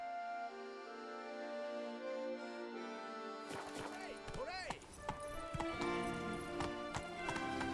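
Horse hooves clip-clop in The Witcher 3 video game, a steady trotting rhythm up close that starts after a few seconds over game music, with a brief whinny partway through.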